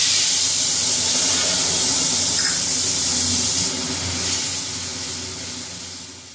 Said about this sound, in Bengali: এবার তেলের মশলাটা দিয়ে দিচ্ছি